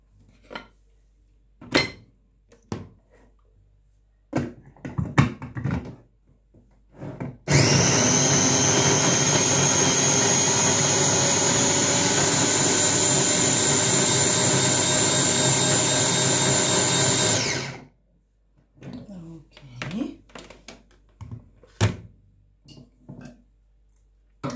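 Blender whirring through watermelon and lime for a drink, a loud continuous roar lasting about ten seconds, framed by short clinks and handling knocks before and after.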